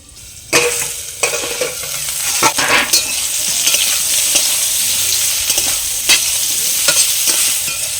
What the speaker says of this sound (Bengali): চাপা দিয়ে ভেজে নেবো কুমড়োটা